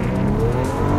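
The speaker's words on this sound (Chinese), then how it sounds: "刹车踩到底，右脚油门，来，2500转，放油门" A BMW X6 in Sport Plus mode makes a launch-control start, giving a brief loud burst of engine roar with a rising tone and tire squeal, close up and with no talk.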